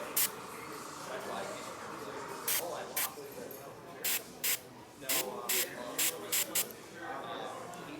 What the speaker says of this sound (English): I'm gonna spray little bits of paint